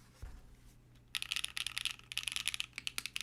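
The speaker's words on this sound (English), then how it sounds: "This creaking sound happens while I type." Mechanical typing on a QK100 MK2 keyboard with a creaking case: after a quiet first second, a dense run of near, crisp clicks and clacks in an uneven rhythm continues to the end.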